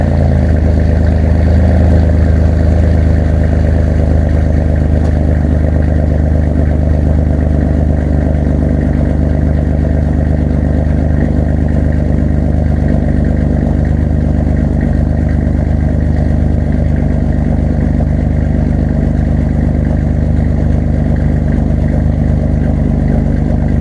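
A Dodge Dakota's 3.9 engine idles through a Thrush muffler exhaust, a loud, steady, deep rumble that holds evenly for over twenty seconds with no talking.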